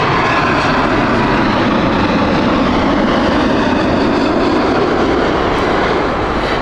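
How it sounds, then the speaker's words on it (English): Virgin Atlantic Boeing 787 airliner at Heathrow Airport, its jet engines roaring loud and steady at close range, a dense continuous rumble holding for the full stretch without any talking. "Right, another Virgin 787."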